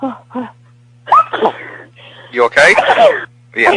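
A single loud sneeze during a conversation, surrounded by brief speech from people nearby.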